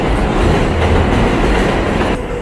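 A train rumbles loudly overhead on an elevated track, a continuous roaring clatter of wheels on track that eases slightly at the end.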